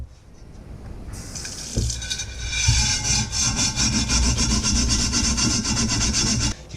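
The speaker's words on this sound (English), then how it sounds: "So I'm just going to scrub it a little bit more." Scrubbing inside a cast iron pan during washing, a steady rhythmic rasping rub that runs continuously for several seconds, close and fairly loud with no talking.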